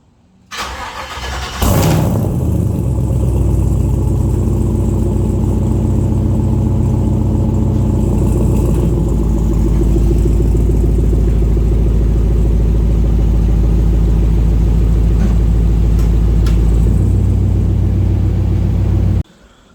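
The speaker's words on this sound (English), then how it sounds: "I'm gonna give y'all a cold start right quick" An LT L83 5.3 V8 swapped into a G-body El Camino cold-starts with a brief crank and catch, then settles into a loud, steady, rumbling idle close by that holds for most of the run before cutting off.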